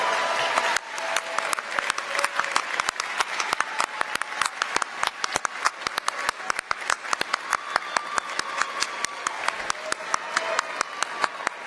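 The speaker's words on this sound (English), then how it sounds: "I want you to join in a round of applause for all of them" A large audience at the Uniformed Services University of the Health Sciences commencement for families gives a sustained round of applause, with dense, crisp clapping continuing steadily throughout.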